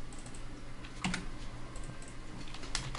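Computer keyboard typing while working in Photoshop, a short run of close, crisp key clicks in a quiet room with no voices.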